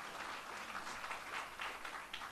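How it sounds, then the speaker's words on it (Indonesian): A church congregation at a Sunday service applauds, giving a fairly faint, continuous wash of clapping from many hands that fills the whole moment without letting up. "Berikan tepuk tangan yang meriah"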